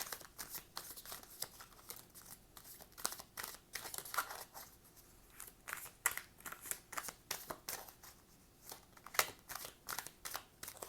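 Tarot cards being drawn and handled from a deck during a reading, giving a series of soft papery shuffles, slides and snaps in quick irregular bursts, close and fairly quiet, with no talking.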